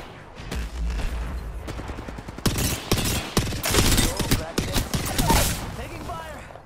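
Rapid bursts of video game gunfire crackle in dense volleys, loud and close, with heavy automatic fire through the middle and end. A voice speaks intermittently underneath.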